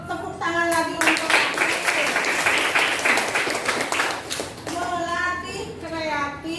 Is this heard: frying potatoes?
no